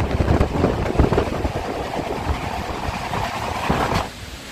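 A passenger train standing at Medinipur station gives off a continuous low rumble and rattling clatter with scattered clunks. The noise holds steady before dropping away near the end.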